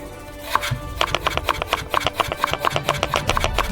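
A knife chops potatoes into thick pieces on a cutting board, with steady evenly spaced knocks and a short scrape, close and clear, with no talking.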